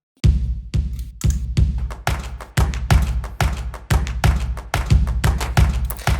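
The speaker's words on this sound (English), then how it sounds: "and we also have a kick drum." Punchy electronic kick drum in a music track, about a dozen heavy low thumps on a steady beat with short tails, mixed with bright percussion hits.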